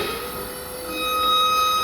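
A steady mechanical rumble with high metallic squealing tones, growing slightly louder toward the end, as a sectional door with no operator rolls up along metal tracks.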